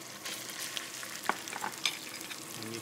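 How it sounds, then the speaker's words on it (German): Green curry paste sizzles and crackles gently as it heats in a pan for a Thai green curry, with a few light stirring clicks and no voices. "Zuerst erwärmen wir die grüne Currypaste in der Pfanne, dann fügen wir etwas Kokosnussmilch hinzu"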